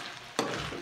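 Ground meat and egg mixture for tortang giniling being stirred together in a bowl, a short wet squelching swirl starting abruptly partway through and continuing close and moderately loud.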